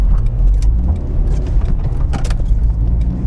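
Manual car pulling away in first gear on a high-speed roadway, a loud, steady low engine drone and road rumble heard from inside the cabin, with no talk.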